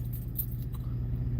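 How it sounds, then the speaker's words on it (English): A spare set of truck keys jangles and clinks in quick, light metallic bursts close to the mic, over a steady low hum, with no talking. "I have my extra set of keys."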